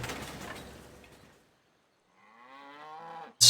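A single long, close moo from cattle in the strategy game Civilization 5, heard alone after a stretch of quiet and cut off by a brief loud burst at the end.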